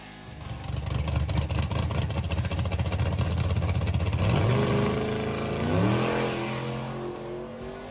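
A 1948 Plymouth gasser's engine roars loud and close, holding a steady rumble before its pitch climbs sharply in rising revs as the car lifts into a wheelie, then eases back.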